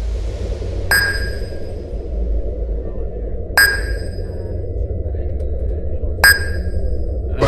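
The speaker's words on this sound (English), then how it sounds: "It's the sound of the submarine diving" Three evenly spaced, ringing sonar-like pings in a submarine-diving effect, each a bright metallic tone that decays slowly, set over a steady low bass rumble from the music bed.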